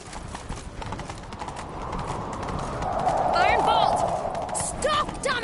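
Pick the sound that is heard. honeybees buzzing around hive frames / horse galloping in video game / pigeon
horse galloping in video game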